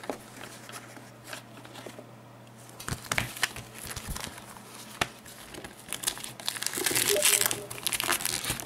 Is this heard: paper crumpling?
yes